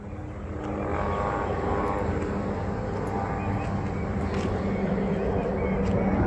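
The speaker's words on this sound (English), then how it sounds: "A helicopter." A helicopter passing overhead during a walk through Waikiki, a steady droning rotor and engine rumble that swells in and holds fairly loud over outdoor ambience, with people talking nearby.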